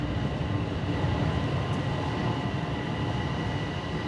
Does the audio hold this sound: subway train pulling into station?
yes